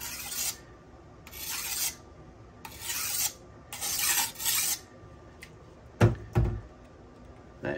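A knife edge is dulled on a Buck Honemaster sharpener in a series of rasping scrapes, five or six strokes at an even pace, then a few sharp knocks near the end, all close and without talk.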